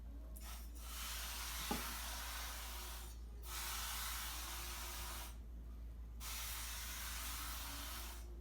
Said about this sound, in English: take some cooking spray and spray it like this, all over the pan